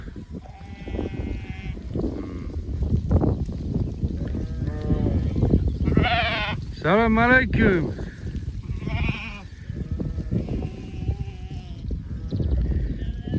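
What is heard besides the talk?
lambs bleating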